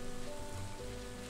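Steady light rain patters down in the Stardew Valley farming game, a soft even hiss with faint tonal ambience beneath, continuous and unbroken through the short stretch with no talking.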